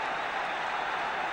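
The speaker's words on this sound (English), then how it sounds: "Tremendous excitement in this crowd" A football crowd roars after Ray Graydon's goal in a 1975 match, a dense, sustained wash of cheering and applause filling the stadium without a break.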